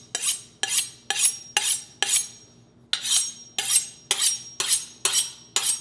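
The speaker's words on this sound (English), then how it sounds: "So let's sharpen our knife." A kitchen knife is drawn through a sharpener in about ten crisp, evenly spaced metallic swipes with a brief pause midway, close and clear with no talking.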